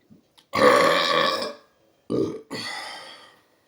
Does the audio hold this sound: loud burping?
yes